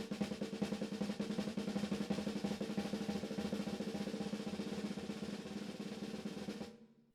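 Double stroke roll played on drums with alternating right and left hands, a steady dense stream of even strokes running for about seven seconds before stopping abruptly, loud and alone.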